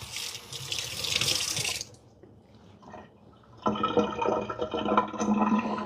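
Something is rinsed under a running tap, with a close, steady gush of water that stops briefly and then starts again with splashing.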